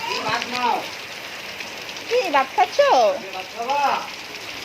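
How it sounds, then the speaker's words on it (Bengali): Steady rain falls with a constant broadband hiss, while people talk intermittently over it. "একেবারে স্বস্তির বৃষ্টি। বৈশাখের পর হচ্ছে এখানে প্রথম বৃষ্টি আসছে।"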